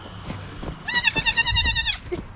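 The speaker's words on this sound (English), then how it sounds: "This goat is yelling." A goat lets out one long, loud, wavering bleat lasting about a second, close by, with faint background thumps and no talking.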